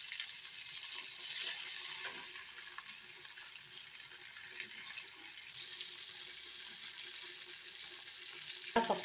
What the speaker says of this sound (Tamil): நல்லா காஞ்ச எண்ணெயில் போட்டுட்டு நம்ம அடுப்பை நம்ம சிம்மில் வச்சுக்கணும்.